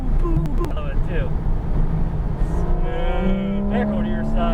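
A Porsche 911 GT3 RS on the Palm Beach International Raceway track roars close by while it downshifts, its pitch stepping up and down in quick shifts, with people talking over the engine.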